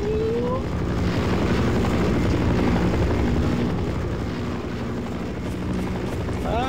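An Apache attack helicopter in Half-Life: Source makes a loud, constant rotor drone that fills the scene without a break, with a couple of short higher whines rising over it.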